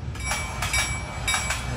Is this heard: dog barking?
no